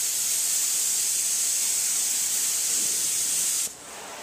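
Steady spray hiss of self-leveling waterborne automotive primer from a spray gun, loud and continuous for several seconds before cutting off abruptly near the end, leaving a quieter hiss.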